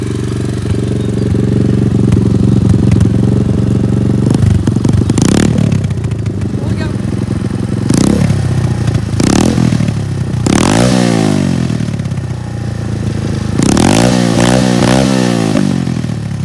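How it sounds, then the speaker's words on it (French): A 125 Rookie MiniMx dirt bike engine running with the choke off, loud and close, idling with clattering pulses and then several sharp throttle blips that rise and fall, alone with no talk. "donc c'est le bruit sans starter."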